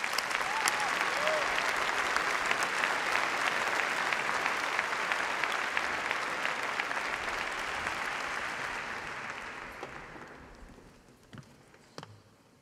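A large graduation ceremony audience applauds the graduates with sustained, dense clapping that holds steady and loud, then fades out gradually toward the end, leaving a few isolated claps.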